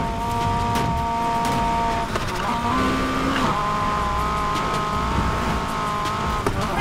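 Volkswagen Golf GTI in the racing game NFS Heat, its engine droning steadily at high revs with shifting tones and a brief rising note mid-run, loud and continuous, with faint tire noise.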